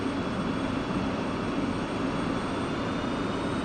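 An F-16 jet engine spooling up in the DCS flight simulator, a steady, loud broadband roar with a faint high whine running throughout, no voices.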